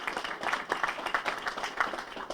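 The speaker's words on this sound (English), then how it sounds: "So let's give them applause" An audience at a public event about the future of the Buffalo Central Terminal claps together, a steady patter of many hands held at an even level throughout.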